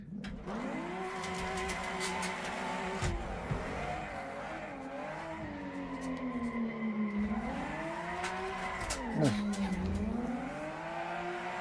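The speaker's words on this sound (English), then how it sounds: "with drifting, you're controlling a car that is out of control because the rears are past the limit of what they can go and you're just spinning" A BMW M3 drifting, its engine note rising and falling through long swooping sweeps with tire squeal mixed in, loud and continuous throughout.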